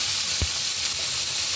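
Chicken and egg sizzle steadily in a pan for chicken fried rice, a continuous close frying hiss with a single brief low knock from stirring partway through.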